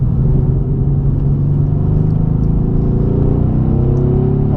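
Mercedes C63 AMG S Coupe (2017) engine rumbling steadily as it accelerates, a loud, continuous low drone heard from inside the cabin with rising harmonics and no talk.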